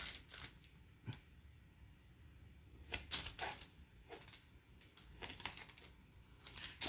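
A knife cuts through a roll of homemade solid bubble bath in a string of faint, crisp, irregular clicks and taps, recorded close up and quiet, with no talking.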